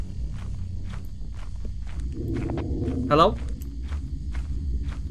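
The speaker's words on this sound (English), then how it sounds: "Do you hear stomping? I hear stomping." Heavy stomping footsteps from a monster in the video game Lethal Company thud in a slow, regular rhythm over a low rumbling background, with a player's voice calling out briefly partway through.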